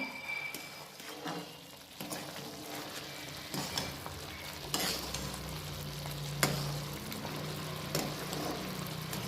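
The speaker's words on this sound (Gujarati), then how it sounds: "હવે આને આપણે ગેસ ફાસ્ટ કરી અને શેકીશું" Rajgira shiro, a sweet amaranth-flour pudding cooked with milk, roasting over a high flame while a spoon stirs it; constant close bubbling sizzle with repeated scraping strokes against the pan.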